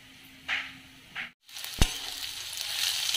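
Onions frying in oil for chicken biryani, a soft close sizzle with a couple of stirring scrapes and a brief dropout, steady and fairly quiet throughout.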